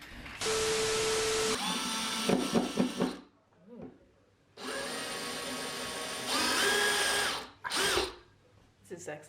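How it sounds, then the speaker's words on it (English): A power drill whirs in loud sustained bursts during a home DIY fixing job, with short pauses and a brief hammer-like knocking between runs, and people talking in between. "I'll do the drilling"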